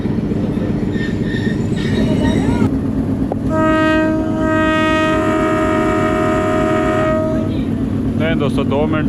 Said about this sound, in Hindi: इनिशियल डिपार्चर विसल हो गया है कोट नजीबुल्लाह रेलवे स्टेशन से रावलपिंडी पैसेंजर का।